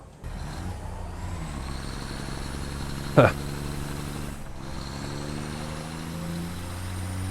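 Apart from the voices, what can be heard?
truck from the video game Satisfactory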